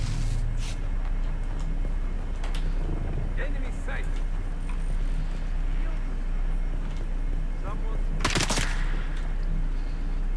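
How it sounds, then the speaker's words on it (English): Distant gunfire in the video game Dune Awakening, a few scattered shots and one louder burst near the end, set against a constant wind-like rumble with occasional voice sounds. "Somebody's shooting at us."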